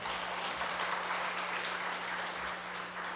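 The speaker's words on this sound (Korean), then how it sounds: "우리 잘했다고 박수 한번 치죠." Applause from a church congregation closing a service, a steady dense wash of clapping that fills the whole stretch at moderate volume, with no voices standing out.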